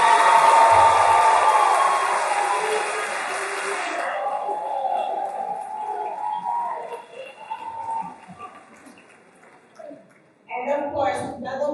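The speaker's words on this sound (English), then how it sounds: "So join me in a round of applause to the teachers." Broadband applause from a crowd at a graduation ceremony fills the first four seconds, then fades into scattered murmuring and a few voices talking.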